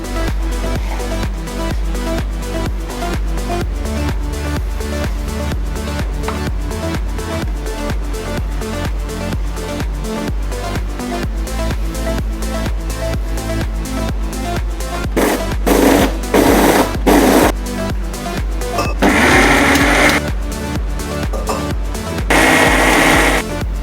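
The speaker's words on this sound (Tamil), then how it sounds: "சின்ன வெங்காயம், காஞ்ச மிளகாய், தேங்காய் இந்த 4ஐயும் போட்டு ஒரு அரைச்சி எடுத்துக்கிட போகிறாங்க." A kitchen mixer grinds shallots, dried chillies and coconut into a paste with a loud, continuous whirring drone, its motor pitch shifting in bursts near the end as the jar is worked.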